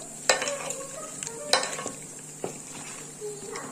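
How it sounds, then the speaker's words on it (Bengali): Mutton being mixed with salt by hand inside a clay pot, giving soft wet squelches and a few sharp scrapes and knocks against the pot, close and moderately loud with no voices. "হাতে করে ভালো করে এটা মিশিয়ে নিচ্ছি।"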